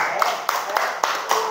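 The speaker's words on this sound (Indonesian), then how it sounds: "silakan tepuk tangan untuk kelompok 1" Classroom students give a round of clapping for a presenting group: a handful of sharp, roughly evenly spaced claps, close and fairly loud, over a faint background murmur.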